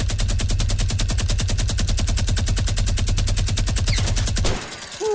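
Rapid automatic gunfire in the video game Fortnite, a loud, steady stream of closely spaced shots lasting several seconds before cutting off abruptly.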